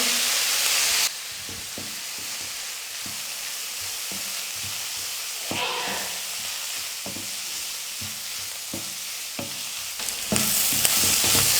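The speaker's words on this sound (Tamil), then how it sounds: "வெங்காயம் ஒரு பக்கம் வதங்கிட்டே இருக்கட்டும்." Sliced onions fry in a pan with turmeric powder, giving a steady, loud sizzle and hiss. Periodic scraping taps from stirring with a spoon run through it, and nobody talks.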